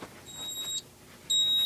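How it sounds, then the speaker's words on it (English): A fire alarm panel emits high electronic beeps during a system test, one steady tone fading off and then a louder one starting, with a faint hum between them. "You can hear the panel beeping in the background."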